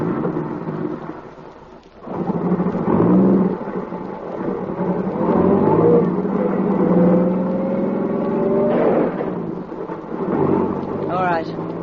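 A car engine revs in a radio drama sound effect, a loud rumbling drone with whining tones that climb in pitch, briefly dipping before surging again and running continuously.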